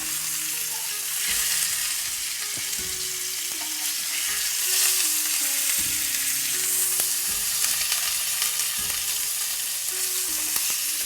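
Fresh tuna sears in a hot pan with a loud, steady sizzle and crackle, close up, while occasional clanks of a pan or utensil punctuate it; no one speaks.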